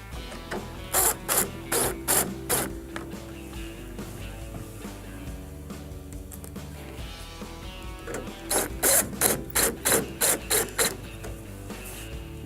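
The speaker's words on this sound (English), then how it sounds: "we can go ahead and secure the grill with the 2 number 2 Phillips screws we removed earlier" Two sequences of sharp, rapid ratcheting clicks from a screwdriver driving number 2 Phillips screws to secure a Whirlpool microwave grill, close and crisp with a quieter stretch between them.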